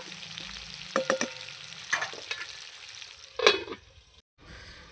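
Potatoes fry in a pan with scattered sizzling and intermittent stirring scrapes, fairly quiet and close, with a brief cutout near the end.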